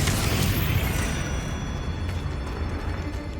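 Confringo fire spell exploding in Hogwarts Legacy: a loud, rumbling blast that rolls on as a sustained, gradually fading roar.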